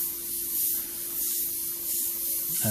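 An airbrush spraying paint in quick strokes for realistic fur, a close continuous airy hiss that swells and eases in gentle waves, with no talking.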